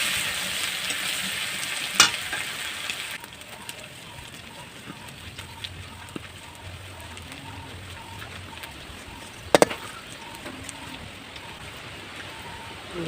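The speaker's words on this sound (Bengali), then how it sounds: "রসুনটা ভাজা হয়ে গেছে, তখন দিয়ে দেবো পেঁয়াজ।" Garlic and onion fry in oil in a village kitchen, giving a continuous soft crackling sizzle with occasional sharp clinks of a spoon against the pan and faint background sounds.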